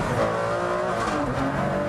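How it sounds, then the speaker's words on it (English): A Ferrari Enzo's V12 engine howls on a race track, a loud continuous high-revving drone with shifting pitch as the car accelerates, heard from close behind the driver with no pauses. "you get that lovely V12 engine behind you, the blip of the down change that comes automatically"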